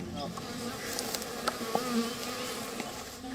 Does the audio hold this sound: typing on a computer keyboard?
no